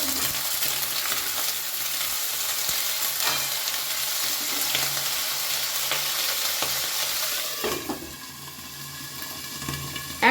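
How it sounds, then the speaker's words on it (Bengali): Chopped onions and partly fried potatoes sizzle steadily in a pan for a fish chorchori, with stirring scrapes throughout; the hiss dips briefly near the end before a final clatter. "এবার দিয়ে দিলাম কেটে রাখা পেঁয়াজ এটা দিয়েও ভালো করে একটু নেড়ে"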